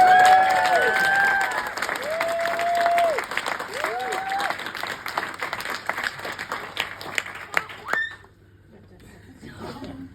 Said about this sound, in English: I think we should all give a proper round of applause to Casey.